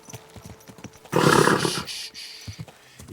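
Hooves clip-clop rhythmically in the video game Kingdom Come: Deliverance 2, then a horse lets out a loud, drawn-out neigh before the hoofbeats continue at a lighter pace.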